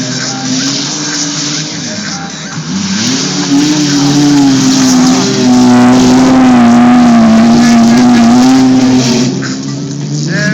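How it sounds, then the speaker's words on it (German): Six-cylinder BMW stock cars, including a BMW 535 estate and a BMW 320i, racing in the large-car class at Perleberg, a loud close engine roar rising and sustained as the cars accelerate past. "Dann fahren wir jetzt in der L-Klasse Stockcar."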